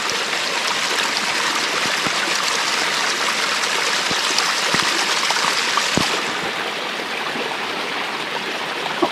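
Running stream water near a lakeside wild camp in late autumn, a steady close rushing and trickling flow with small gurgles, continuous and fairly loud with no voices.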